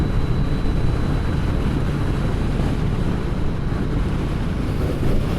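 A 2021 Triumph Street Triple R motorcycle cruising at a steady 73 mph, just under 6,000 RPM, heard as a continuous loud roar of engine and wind rush with no let-up.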